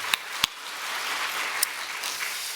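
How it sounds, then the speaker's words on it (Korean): A church congregation in Los Angeles applauds the choir during a Sunday worship service, a few sharp separate claps up front, then a softer, scattered patter of clapping spread through the room. "찬양대 잘했습니다. 박수 한번 주세요."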